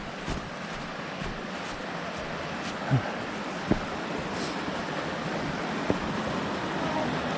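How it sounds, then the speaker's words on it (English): A mountain creek crossing on a hiking trail in Grandfather Mountain, North Carolina, produces a steady, fairly loud rush of flowing water that fills the whole stretch, with a few faint knocks and footstep-like taps. "Cool creek crossing."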